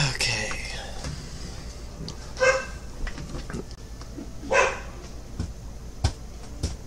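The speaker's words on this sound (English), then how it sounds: "Just because they're barking doesn't mean you have to bark." Dogs indoors bark in a few short, sharp bursts spaced a couple of seconds apart over a low room background, with some quieter yips between.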